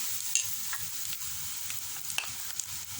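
Idli pieces coated in batter fry in hot oil with a steady, close sizzle and light crackle, broken by a few small pops and stirring clinks, with no talking.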